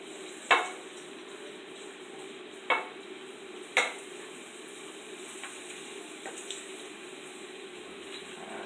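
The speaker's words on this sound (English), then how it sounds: "So we're gonna saute it for a little while." Onion, scotch bonnet pepper and tomatoes sautéing for ackee and saltfish give a soft, steady sizzle, with a few sharp stirring knocks early on and no one talking.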